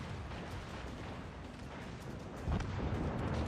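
Naval gunfire from warships in World of Warships, a continuous rumbling battle din of heavy booms and bursts, with a louder volley rising near the end.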